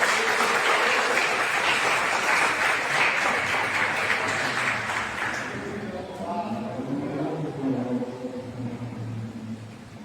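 Church youth group clapping hands together in worship, a dense sustained wash of applause that fades after about six seconds as a voice begins speaking.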